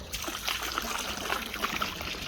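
Potassium permanganate solution poured into a koi pond, a steady trickling, splashing stream of liquid close by, continuous with small splatters throughout.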